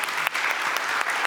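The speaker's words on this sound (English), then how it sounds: "a round of applause for the panelists." Audience applause at a conference afternoon plenary on AI in the EU, a steady, dense round of clapping for the panelists heard alone and fairly loud through the short stretch.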